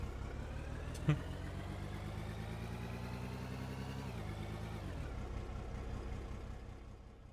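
A truck engine in the Out of Ore mining game idles with a steady mid-pitched drone that shifts in pitch briefly, then settles lower and fades slightly at the end, no voices.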